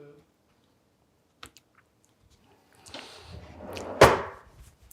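Someone chews a deviled egg with scattered crunchy, gritty bites growing louder toward a sharp close snap, after a quiet start with a few faint clicks.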